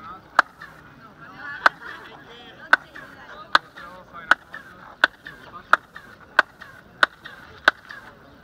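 Sharp, evenly spaced honks repeat about every eight-tenths of a second, loud and close, over a quiet, faintly noisy background.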